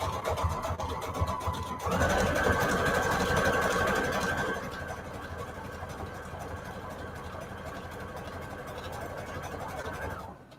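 A sewing machine stitches junk journal pages made from a book, a steady mechanical whir that starts after a brief pause and runs continuously at close range, then drops to a quieter hum.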